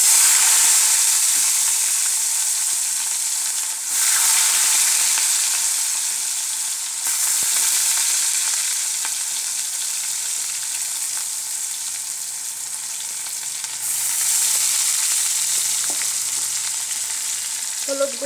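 Chopped onion and garlic sizzle loudly in hot oil with cumin seeds in a pan, a steady bright hiss that swells as fresh ingredients drop in and softens between stirs, with no talking.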